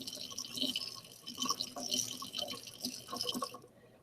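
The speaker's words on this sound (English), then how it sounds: "I'm going to rinse off my stirring rod for a little bit" Tap water runs steadily over a glass stirring rod in a lab sink during rinsing, a continuous splashing hiss with small shifts in flow as the rod is turned, fairly close and without talk.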